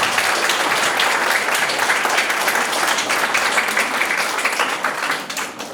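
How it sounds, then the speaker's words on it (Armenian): An audience at a school farewell for a primary class claps in steady, dense applause, loud and close, that fades slightly at the end. "Եկեք ծափահարենք։"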